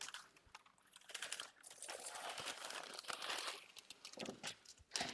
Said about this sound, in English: So we roll out some new pattern paper.